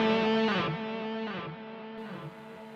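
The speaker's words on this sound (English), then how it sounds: "So yeah, straight away you can hear that delay level." Electric guitar played through a Kemper profile with a morph solo boost and delay, sounding as a loud, sustained note and chord that ring out and fade slowly with trailing echoes.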